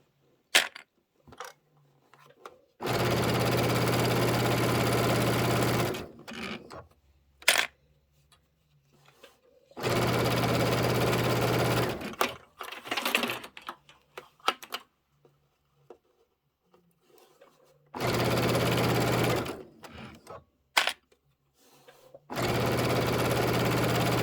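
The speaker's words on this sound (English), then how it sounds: "Kind of nice to just mindlessly sew sometimes." A sewing machine stitching a crossbody bag runs in four steady bursts of a few seconds each, separated by quiet gaps with small clicks and handling knocks, near and loud, with no talking.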